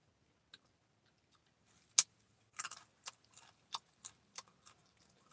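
Someone chews a raw carrot with an open mouth, a string of crisp, wet crunches spaced irregularly over a few seconds, close to the microphone with no talking.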